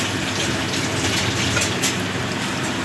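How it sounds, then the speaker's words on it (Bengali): Water pours into a freshly rinsed kitchen mixing jar as a steady, close gushing splash lasting a few seconds, with no one talking. "মিক্সিং জারটা ধুয়েও অল্প একটু জল দিয়ে দিলাম।"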